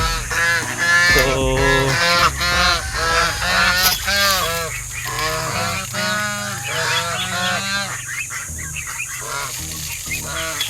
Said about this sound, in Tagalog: May gansa naman dito.